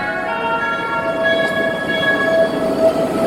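A train rolls into a railway station platform with a steady rumble and a long tonal horn or brake whine, loud and close.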